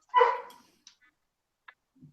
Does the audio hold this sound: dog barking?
yes